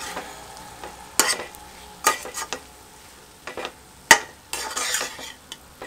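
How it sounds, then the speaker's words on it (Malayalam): A spoon stirring biryani masala and oil in a pot of biryani made with ration rice: intermittent close scraping strokes against the pot with a soft sizzle underneath, with no talk. "ഒരു സ്പൂൺ ബിരിയാണി മസാല ഇനി നമുക്കിത് നല്ലപോലെ ഒന്ന് ഇളക്കാം"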